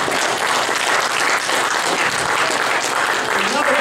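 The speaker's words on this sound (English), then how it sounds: "Let's all give the Lord a hand clap." Church congregation giving a steady burst of hand claps, dense and loud throughout, with a few voices mixed in.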